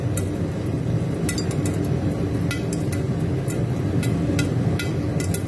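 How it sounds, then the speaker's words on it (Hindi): Popcorn kernels popping in a pot over a stove flame on full heat, scattered sharp pops and clinks irregularly spaced over a steady hissing background. "फटने शुरू हो गए। पॉपकॉर्न बन रहे हैं।"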